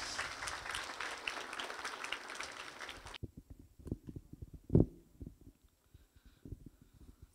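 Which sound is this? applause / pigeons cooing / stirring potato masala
applause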